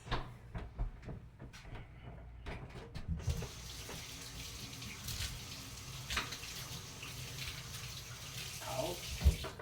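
Hot water running from a kitchen tap, a steady close hiss and splash that starts a few seconds in, with clicks and knocks of dishes at the start and brief handling bumps.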